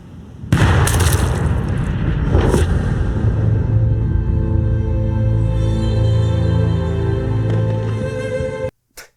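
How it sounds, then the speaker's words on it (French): A sudden loud gunshot blast in a film scene followed by a long rumbling roar, with music running underneath until an abrupt cut. "un coup de feu est tiré."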